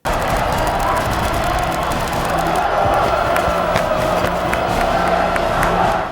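A large stadium crowd in the 1999 Korean film Shiri cheers and shouts continuously, a loud, dense roar of many voices with scattered whoops and clapping throughout.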